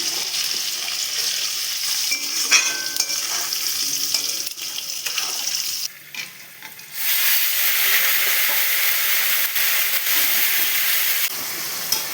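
Potato pieces frying in a hot pan with salt and turmeric give off a loud, steady, close sizzle that drops briefly for about a second partway through, then resumes at full strength, with no talking.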